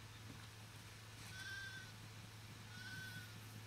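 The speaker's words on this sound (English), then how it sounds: "Chase these sheep." Two faint, short sheep bleats, evenly spaced, in The Last of Us Part II game, heard over a steady low background hum.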